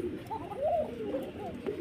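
Soft, wavering coos from a caged Arabian koka pigeon, one of a pair, rise and fall in a continuous murmur, nearby but fairly quiet over a low hum.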